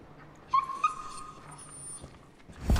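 A dog in the video game Far Cry New Dawn gives a couple of short whimpers and yips, close and moderately loud, amid quiet ambient game sound, with no talking.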